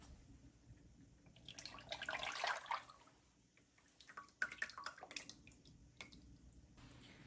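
A gelatin and vitamin C gummy mixture is poured into molds, giving faint wet trickles and drips in two short bursts with quieter pauses between them.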